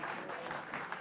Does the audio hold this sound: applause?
yes